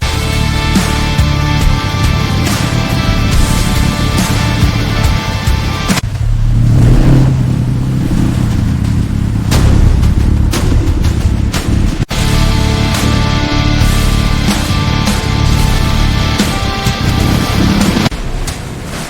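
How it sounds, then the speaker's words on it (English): A 2026 Harley-Davidson Low Rider ST motorcycle engine running loud and close, a thick continuous rumble with a dip partway through before revving back up, no talking. "Key on, check the gauge, then hit start. Holy, that's loud!"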